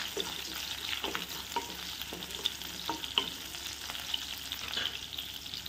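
Green chili frying in a pan of oil while making restaurant-style pasta at home, a steady close sizzle with soft scraping stirs at intervals, no voices.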